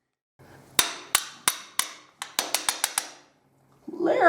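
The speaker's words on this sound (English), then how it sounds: "with enough creative hammering, I got it in there" A socket is hammered against a freeze plug to seat it in an engine block, giving about eleven sharp, close metallic strikes, spaced evenly at first and then faster, followed by a brief rustle.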